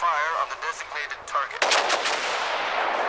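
Naval guns fire from warships in the World of Warships game: a sharp, loud blast bursts in midway, then a sustained roar and rumble of the salvo, preceded by shorter, choppier effects.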